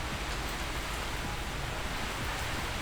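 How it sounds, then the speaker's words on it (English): Heavy rain pours steadily outside, a dense, even hiss of drops on surfaces that holds at a constant level throughout with no voices. "You can hear it pissing down rain outside"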